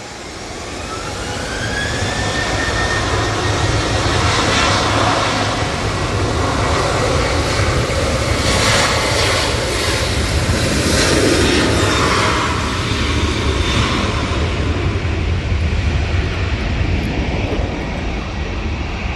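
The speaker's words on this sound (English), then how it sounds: "Ryanair 737-800 lined up, ready to go. Off to Dublin." A Ryanair Boeing 737-800 takes off in a storm at Manchester Airport, its jet engines building into a loud, sustained roar that holds steady for many seconds, with rain and wind noise mixed in.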